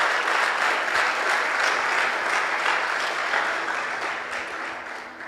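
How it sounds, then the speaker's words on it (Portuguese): A church congregation claps together in sustained, dense applause during a service, loud and continuous, then slowly tapering off toward the end. "Dê um aplauso ao Senhor"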